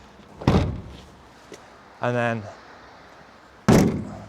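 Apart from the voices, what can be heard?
van rear doors slamming shut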